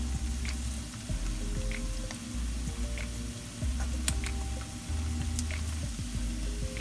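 Tofu pieces fry side by side in a hot pan, a close, steady sizzle with scattered pops, crackles and spits of oil running throughout.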